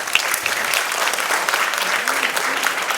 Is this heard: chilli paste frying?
no